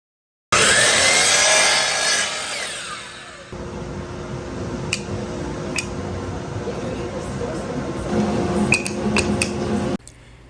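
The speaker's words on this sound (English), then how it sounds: "cut it to size on the miter saw" A loud, high-pitched miter saw whine cuts black walnut for a few seconds, then winds down into a lower hum with light clicks and taps.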